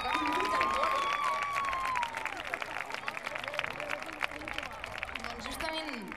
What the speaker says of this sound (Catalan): Un aplaudiment per la gent de Huelva, que ha vingut del món.